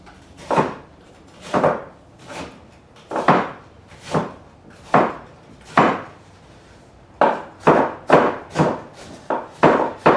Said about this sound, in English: I'm just chopping a grid around the onion and not cutting all the way through the onion